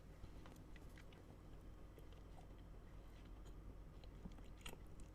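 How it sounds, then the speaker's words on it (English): Close, quiet chewing and biting of Finnish chocolate, with soft irregular crunches and mouth sounds continuing throughout, no talking. "It gets told off for chewing chocolate"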